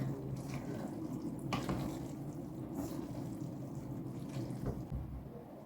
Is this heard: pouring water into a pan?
yes